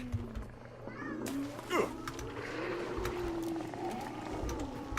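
Inside the Hunt: Showdown video game, a cat gives a few faint, short meows over a low ambient rumble and background noise, with a brief sharp sweep partway through.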